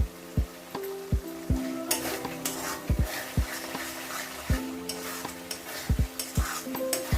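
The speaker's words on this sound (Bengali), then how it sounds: "এবার আমি এই চেরা কাঁচা লঙ্কাগুলো যেগুলো ছিল, চেরা হচ্ছে কাঁচা লঙ্কা, ওগুলো দিয়ে দিই" Green chillies slit lengthwise are dropped into a simmering prawn and curd gravy, with a steady low sizzle and repeated close spoon stirs and scrapes against the pan.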